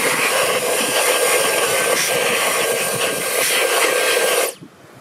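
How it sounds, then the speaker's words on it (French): A blast of compressed air cleans the filter of an Ultenic U20 cordless stick vacuum, a loud close hiss that holds steady for about four and a half seconds, then cuts off abruptly. "ce que je fais habituellement, c'est que je passe un coup de soufflette"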